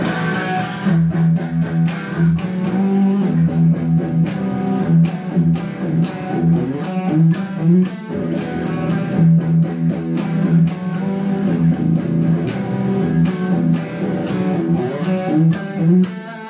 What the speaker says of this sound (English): cranks up the distortion and uses that as a rock riff